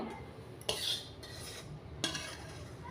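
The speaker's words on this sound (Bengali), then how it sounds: "তো একটা পাত্রে আমি এটাকে ঢেলে নিচ্ছি।" Roasted flour is scraped and poured from a metal wok into a bowl, with two sharp metallic scrapes of a utensil against the wok and soft rustling between them, close and quiet.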